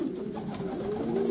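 A pigeon resting on a loft shelf on a humid summer morning coos softly in a single low, continuous call, close by and fairly quiet.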